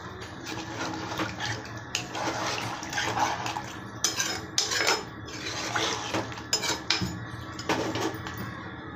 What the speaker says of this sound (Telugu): ఇప్పుడు వాటర్ వేసుకోవాలి. ఇందులో మసాలా నీళ్ళు తగినన్ని నీళ్ళు వేసుకోవాలి.